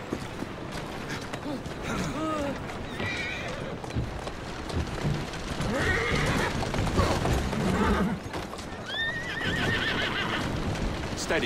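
A horse whinnies several times with steady clip-clop hoofbeats on a Victorian street in the game Assassin's Creed Syndicate, close and clear, while characters talk over the ambience.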